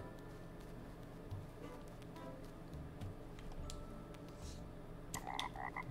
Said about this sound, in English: Fat little roly-poly frog.